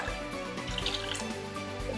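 Water poured into a bowl of crepe batter already mixed with milk gives a soft trickle with scattered drips, close and quiet, with no voices.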